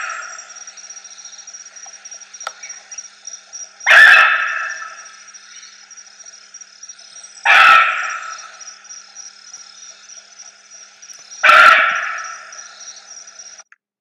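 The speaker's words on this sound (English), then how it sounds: "This is the barking deer, Muntiacus muntjac. This is what it sounds like when it barks." Barking deer (Muntiacus muntjac) in Hong Kong or Thailand gives three loud, sharp barks about four seconds apart, each standing out alone over a steady background of insect buzz.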